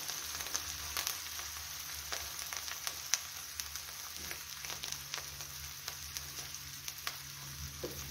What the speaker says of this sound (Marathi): लसूण आणि ठेचा फ्राय होत आले की त्यामध्ये टाकूया निवडून घेतलेली हरभऱ्याची भाजी